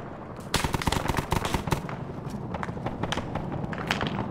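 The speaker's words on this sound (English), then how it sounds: "They're firing PKM rounds at this group here" A PKM machine gun rattles in rapid, uneven bursts during a video game battle between Germans and Soviets, loud and dense with overlapping shots and no voices.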